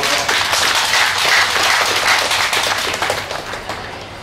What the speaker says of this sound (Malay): Bagi satu tepukan kepada beliau.